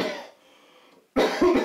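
A person coughs hard in short bursts during a choking first-aid demonstration, one cough followed by a quieter gap and then a louder double cough up close.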